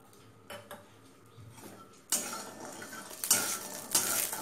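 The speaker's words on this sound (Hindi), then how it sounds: "और बड़ी को अच्छा से भून लेना है।" Urad dal bari roasting in mustard oil in a kadai: soft, sparse clinks at first, then a louder, steady sizzle with scraping and stirring strokes taking over partway through.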